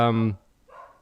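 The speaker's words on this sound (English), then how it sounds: "my dogs are going crazy because my wife's just come home, so you can hear them barking in the background." Dogs bark indoors in the background of a home, a short harmonic bark or yip up close followed by fainter barking farther off after a brief gap.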